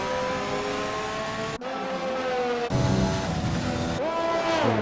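Race car engines in a sim racing game, a Brazil round, roaring loud and close with rising pitch through the gears, sharp cuts at each shift and a final downshift-and-rev sweep.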